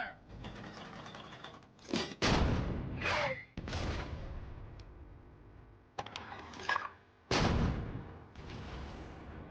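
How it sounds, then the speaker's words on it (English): A submarine's deck gun fires shells at a Japanese ship, giving several loud, sharp booms at irregular intervals, each followed by a rumbling decay. Noisy bursts fill the gaps between the shots. "Ramage's crewmen load shells into the submarine's deck gun."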